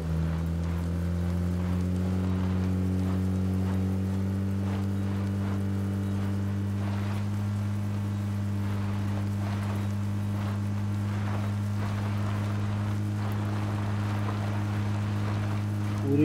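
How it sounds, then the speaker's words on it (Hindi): Heavy rain pours down in PUBG, drumming steadily on a vehicle's roof over the game's constant engine drone, a dense, unbroken hiss that runs the whole time without speech. "दबा के बारिश हो रही है।"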